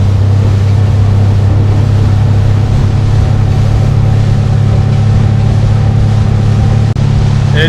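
A new outboard motor on a boat being broken in runs at 4,000 RPM, giving a steady, loud, unbroken engine drone that holds constant throughout with no talk over it.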